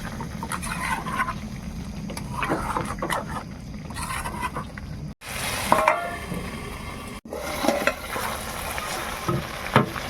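Chicken cooking with burnt spices in a pan, sizzling steadily and loudly while a utensil stirs and scrapes through it, with a few sharp clatters and brief pauses.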